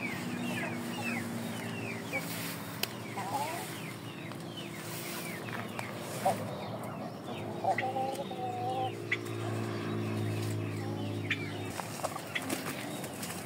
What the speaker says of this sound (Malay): Dia bertarung ayam tu.